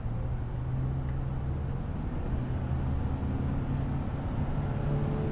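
The engine of a Chevrolet Trailblazer, with a cleaned throttle body and a K&N filter, hums steadily as it accelerates on a clear road, a loud, continuous low drone with no voices.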